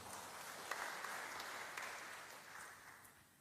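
A church congregation claps during a worship service, a faint, fairly steady patter of many hands that thins out toward the end.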